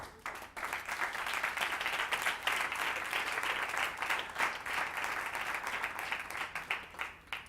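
A church congregation gives sustained applause, many hands clapping in a full, steady roar throughout, heard from a moderate distance.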